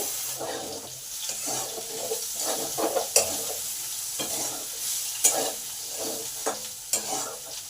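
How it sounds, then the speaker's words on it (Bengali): Potatoes fry in a pan with a spatula scraping and stirring in bursts, the rhythmic clatter over a low, soft sizzle, close and moderately loud with no talking. "আলুটা সেদ্ধ হবে ভাজা ভাজা হবে"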